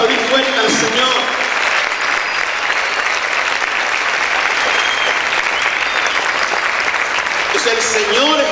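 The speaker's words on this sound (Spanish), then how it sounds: "Vamos a aplaudir fuerte al Señor." A church congregation claps steadily and loudly for several seconds, a continuous wash of applause with brief voices at the start and end.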